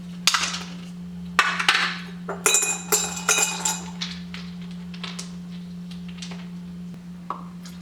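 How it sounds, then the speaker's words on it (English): Ice cubes clink one after another into a glass jar, a series of sharp, bright knocks and rattles spaced over several seconds. A steady low hum runs underneath, and no one speaks. "I usually do like 2, 4, 6, 8 ice cubes,"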